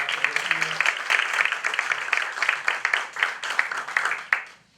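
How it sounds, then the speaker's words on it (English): Audience at a Tulsa Public Schools event applauds a school superintendent, a steady crowd of clapping hands that rises and holds, then thins out and fades at the end. "a round of applause for Dr."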